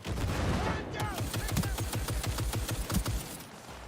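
Sustained rapid automatic gunfire in a video game, a steady stream of sharp close shots running for several seconds over a low rumbling background.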